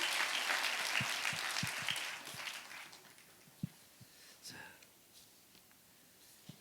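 Church congregation claps in a short, ragged burst that thins out to scattered claps, with a few faint voices murmuring underneath.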